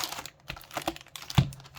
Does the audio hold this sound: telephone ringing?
no